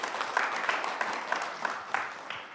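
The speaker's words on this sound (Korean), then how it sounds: "동의하시면 박수 한번 부탁드립니다." Scattered applause from a modest audience at a city brand forum in Busan, with a handful of distinct, sharper claps standing out in a loose rhythm over the softer crowd clapping.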